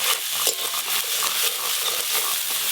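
Ground spice paste stirred and fried in a pan for a Bengali vegetable curry, giving a steady close sizzle with soft scraping stir strokes throughout and no voices.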